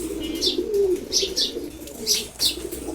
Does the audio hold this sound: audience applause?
no